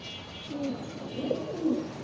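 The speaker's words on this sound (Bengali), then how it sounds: "এটা হচ্ছে অরিজিনাল গ্রিনেক পাকিস্তানের একটা কবুতর" Pakistani Greeneck pigeons coo softly and close by, a few low rolling calls over a faint steady background hum.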